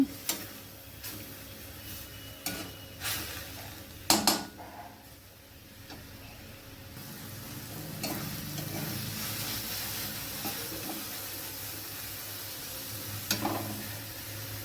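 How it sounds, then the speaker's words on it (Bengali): Grated carrot simmering with thickened milk in a pan, a quiet bubbling sizzle punctuated by a few sharp taps and scrapes of a spoon against the pan as it is stirred. "আবার আমি গাজরটা ভালোভাবে নেড়ে নিচ্ছি।"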